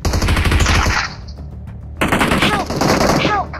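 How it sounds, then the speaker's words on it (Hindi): Rapid bursts of automatic gunfire in BGMI rattle close by in two volleys separated by a brief lull, with sharp metallic echoes trailing off. "एक बंदा राइट से गोली चलाता है"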